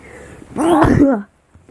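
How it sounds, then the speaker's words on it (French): A single sneeze, voiced and close, rising sharply and ending abruptly, followed by silence. "Je crois que je vais éternuer."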